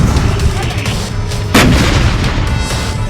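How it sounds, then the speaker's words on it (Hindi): Israeli army artillery fires shells, a loud boom cutting sharply through a dense background of rumbling, crackling gunfire and distant blasts, with no speech heard. "फिर तोपों से उन टारगेट पर निशाना लगाता है"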